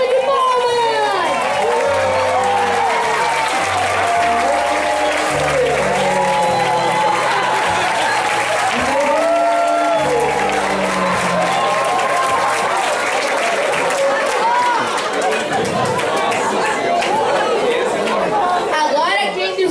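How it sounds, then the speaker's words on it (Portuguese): Studio audience at a television talent show applauding as a jury member walks on, continuous loud clapping and cheering with chatter and voices running beneath it throughout. "Uma salva de palmas!"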